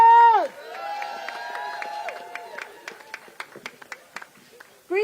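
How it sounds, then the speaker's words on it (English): Scattered applause from a small crowd at an outdoor rally in the UK, with individual sharp claps spread across the middle of the span between voices at either end. "Give her a round of applause."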